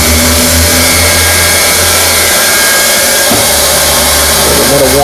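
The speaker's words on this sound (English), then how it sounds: "Heat weld." A heat gun blows a loud, steady, unbroken roar of hot air throughout while heat-welding a patch of plastic onto an RV roof.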